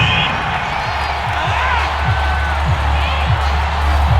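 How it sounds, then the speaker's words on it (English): A home stadium crowd in the football video game Madden NFL 22 boos and jeers after a penalty call, a broad, sustained rumble of voices with scattered shouts and whistles. "Some boos coming down right now from this home crowd after that call."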